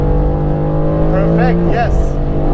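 Mercedes-AMG GT-R race car accelerating down the hill at Spa-Francorchamps, a loud steady engine drone with rising harmonics, close and continuous, with someone talking over it.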